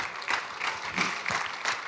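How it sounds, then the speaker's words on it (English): A conference audience claps for panelists in steady, dense applause throughout, with no voices standing out. "Let's give a round of applause to our panelists."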